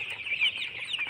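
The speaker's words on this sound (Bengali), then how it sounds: "সেই পোল্ট্রি মুরগির বাচ্চা, আজকে এক সপ্তাহ বয়স, এই যে ছোটো খাবার খাচ্ছে দেখুন" One-week-old poultry chicks at a farm, a steady chorus of high, close peeping and chirping while they eat feed, with no talk.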